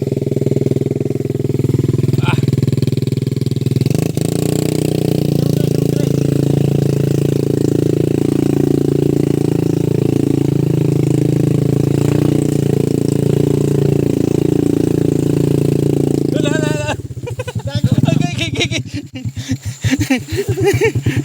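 A Honda motorcycle engine runs steadily with a low, continuous drone for most of the stretch, then turns rough and uneven near the end as the ride gets bumpy, with brief laughter in the background.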